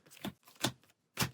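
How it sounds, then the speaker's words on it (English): Playing cards are shuffled for a Marvel Champions card game, three quick riffling bursts close to the microphone, fairly faint, with short pauses between them. "Give our deck one final shuffle and draw 5 cards."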